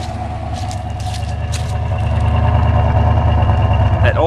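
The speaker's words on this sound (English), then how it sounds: "That Olds 350 is rumbling nice." A cold 1980 Oldsmobile Cutlass Supreme with its Olds 350 V8 on fast idle gives a steady, loud, close-up rumble that grows slightly heavier midway, with no talk over it.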